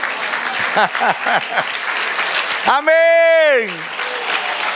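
A church congregation at a Spanish-language sermon applauds with a steady wash of clapping beneath voices, while a long, loud sung or shouted cry rings out over the crowd partway through.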